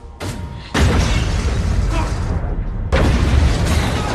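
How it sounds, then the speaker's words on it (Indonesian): Explosions from Fast and Furious 7 arrive as a sudden loud blast and then a long, roaring wash of debris, with a second heavy boom bursting in near the end. "Dan tiba-tiba terjadilah ledakan."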